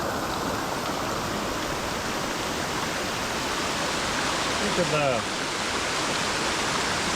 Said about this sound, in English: I just love these roadside waterfalls.